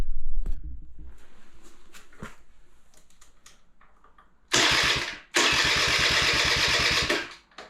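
A Honda Spree scooter engine fitted with a new starter cranks and fires, starting after a brief stall and then running loudly and steadily close by, following a stretch of quiet workshop clatter.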